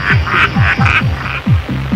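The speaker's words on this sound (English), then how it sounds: "We get a sneak preview of an oh-so-groovy compilation album made up of frog croaks like this one." A frog croaks in a rapid repeated series of about seven throbbing pulses, loud and close, each a short descending croak with a raspy upper buzz, heard alone without talk.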